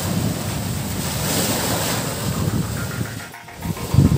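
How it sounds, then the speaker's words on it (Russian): Stormy sea on a windy morning, with waves surging and wind buffeting the microphone in a loud, continuous roar that dips briefly before heavier gusts return. "Море с утра штормит и абсолютно не подходит для каких-либо лодочных"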